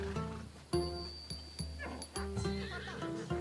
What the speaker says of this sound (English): That horse is from Thessalonia, bred for its courage.